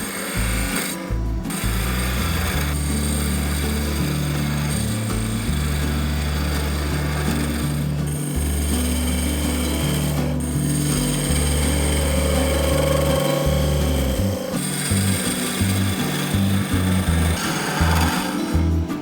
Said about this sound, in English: I use my template to mark out lengths and then use the parting tool to mark the eggs